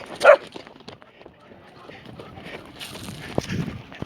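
A single sharp Kangal dog bark sounds near the start, followed by quieter rustling and faint yips in the background.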